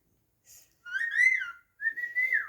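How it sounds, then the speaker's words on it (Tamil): A pet parrot whistles clear, rising and falling tones in a few short phrases, close and alone in a quiet room. "அழகாக இருக்குது விசில் அடிக்கிறது"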